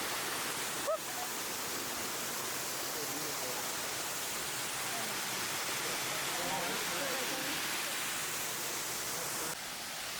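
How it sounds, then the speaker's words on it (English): Steady broadband rushing roar of a waterfall on a mountain trail near Chiang Mai, Thailand, constant and fairly close for the whole stretch, with faint voices mixed in beneath the water noise. "Waterfall after waterfall."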